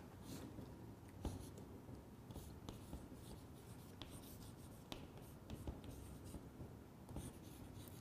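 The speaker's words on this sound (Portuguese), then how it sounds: "Eu vou escrever aqui." Chalk or marker scratches across a classroom board in continuous strokes and taps, close and unbroken for several seconds, with no voices over it.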